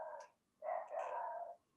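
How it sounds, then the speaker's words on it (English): A dog barks at the front door indoors, giving a short bark then a longer drawn-out one, moderately distant and fairly faint. "so now my dog's barking at the front door"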